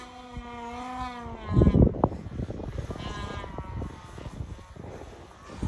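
A snowmobile track churns through thick, deep snow in a steady, rough rumble, with a harder surge partway through as the sled shifts, all close by.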